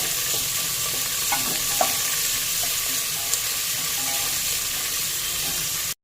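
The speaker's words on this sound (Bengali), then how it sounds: "এবার পেঁয়াজটা এখানে ভেজে নেব একটু লাল করে।" Chopped onions fry in hot oil with whole cloves and cinnamon for a mutton curry, giving a steady, close sizzle throughout with a few faint scrapes of stirring and no talking.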